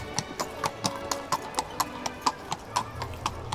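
Toy horse hooves on a Barbie horse-and-carriage toy clip-clopping in a quick, even rhythm of sharp, close knocks, about a dozen steps in a row.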